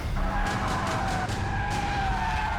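A Toyota 86 sports car with a 2000cc naturally aspirated engine skids, its tires letting out a loud, steady squeal over engine and road roar for the whole stretch, with no talking.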